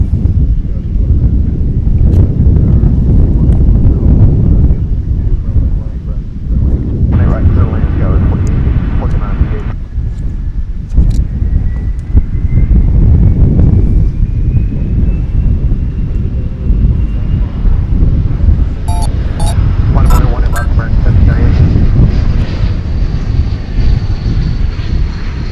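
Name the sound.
airplane taking off from runway 18 left at DFW Airport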